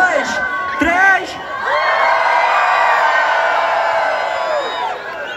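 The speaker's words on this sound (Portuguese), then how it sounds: "E aí, no três, hein, no três vocês gritam" Group of people at an outdoor park with a waterfall shout together in one sustained loud yell after a short spoken countdown, the cheer holding for several seconds before tapering off.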